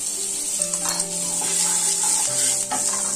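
Butter sizzles and fries steadily in a hot pan, a bright continuous hiss with light stirring clatter, loud and close throughout.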